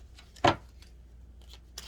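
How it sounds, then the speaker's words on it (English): Soft riffling of tarot cards being shuffled close up, with one sharper snap among a few quick, light flicks in a quiet room. "Let me shuffle again."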